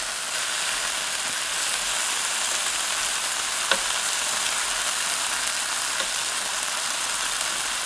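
Shrimp frying in a skillet for a spicy shrimp and basil stir fry, a steady loud sizzle and hiss filling the whole stretch with a couple of faint pops and no talking.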